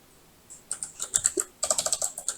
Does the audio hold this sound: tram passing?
no